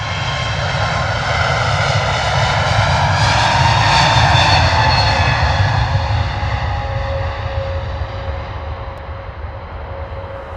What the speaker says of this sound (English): Gorgeous rotation from that Wizz Air 321 Neo. Lovely rotation. Fluffage on the wings there as well as it takes off.